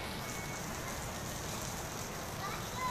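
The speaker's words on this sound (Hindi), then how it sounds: "बारिश हाणे बि थिए पई" Steady rain falls outside a studio, a dense, even hiss with no breaks, heard up close and fairly loud.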